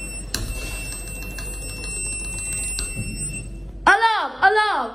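An alarm bell rings steadily for about three seconds inside a Schindler 5500 lift at Bankstown Central. After a short pause, a voice shouts loudly twice.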